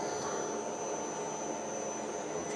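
A Jones & Shipman 540 grinder runs in reverse at 320 revs while making new hubs, giving a steady whooshing motor drone with a constant high whine, even and unbroken throughout.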